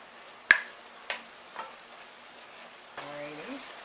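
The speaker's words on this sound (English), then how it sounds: "You just want to stir it in." Seasoning is stirred into vegetables frying for a quinoa and pigeon pea dish, with a few sharp utensil knocks against the pan over a faint sizzle, followed by a brief tonal sliding sound near the end.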